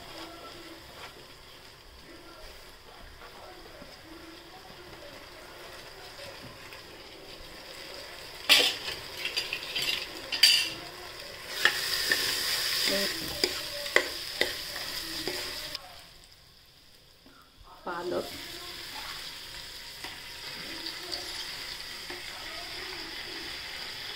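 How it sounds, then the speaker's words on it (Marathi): Chana dal and toor dal sautéed in oil in a pan, a steady sizzle with stirring scrapes that grows louder midway, drops out briefly, then resumes at a moderate level with no talking. "त्याच्यानंतर चण्याची डाळ आणि तुरीची डाळ ही तेलात परतून घ्यायची।"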